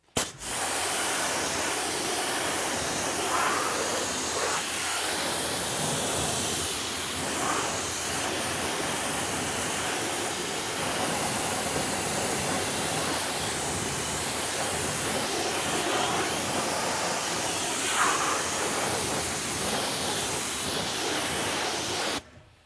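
Water spray rinsing wheel cleaner off a car wheel: a continuous close broadband hiss of pressurized water running unbroken for over twenty seconds, with slight shifts as the jet moves.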